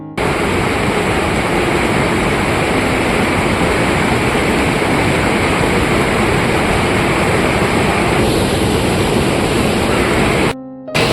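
The Yamuna River at its source at Yamunotri rushes loud and close as a steady broadband roar of flowing water that cuts off abruptly near the end.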